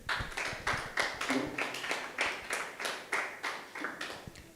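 A group of primary school students clapping together in a steady, rhythmic pattern of repeated claps, fairly faint and roomy in a classroom.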